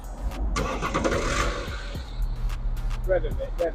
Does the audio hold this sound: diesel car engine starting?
yes